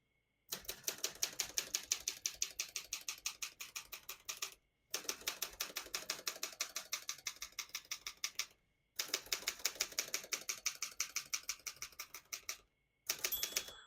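Rapid keystrokes clatter on a 1964 Olympia SM7 portable typewriter in four steady bursts, each a dense run of sharp mechanical clicks separated by short pauses, close and clear with no talking.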